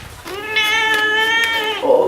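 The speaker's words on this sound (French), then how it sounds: "Mais on va nourrir les minous." A house cat lets out one long, loud, drawn-out meow close by, steady and tonal for over a second, while being fed at home.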